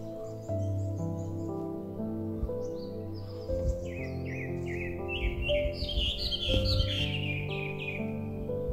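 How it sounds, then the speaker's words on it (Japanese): Small birds chirp and sing under cherry blossoms on a spring morning walk, bright overlapping tweets and warbling phrases close by, with a soft steady background hum beneath them. "実際にその場所で録音した小鳥の声です。"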